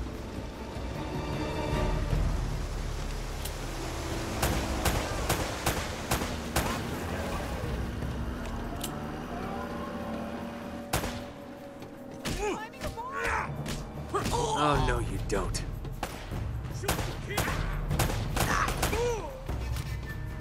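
Video game gunfire from Uncharted: Drake's Fortune crackles in rapid bursts of sharp shots, with a brief lull midway, mixed with game sounds and a player talking throughout.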